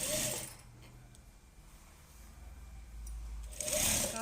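A sewing machine runs steadily while stitching a blouse seam a quarter inch from the edge, the motor whir louder at the start and end and softer in the middle, close by and with no talk.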